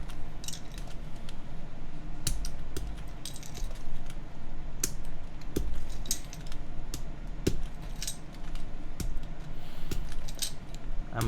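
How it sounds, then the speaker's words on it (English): Keycaps being pulled by hand off a keyboard during a build give repeated sharp plastic clicks and snaps at irregular intervals, close, over a faint background hum. "I'm using my hands to remove the caps"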